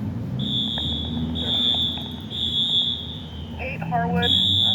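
Fire alarm sounding at Roxbury Crossing station, a steady high electronic tone repeating in long bursts with short gaps, with a brief chirping pattern near the end, heard over background rumble and faint radio-like chatter.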